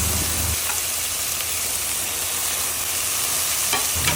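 Tomatoes sizzle loudly and steadily in a hot pan, a dense, continuous frying hiss up close with a couple of brief spatters and no voices.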